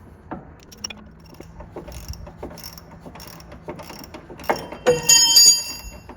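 Close, rapid ratchet-wrench clicks tightening a bolt on an old C65 dump truck, in short bursts with pauses, ending in a louder metallic clatter and ringing as the tool drops.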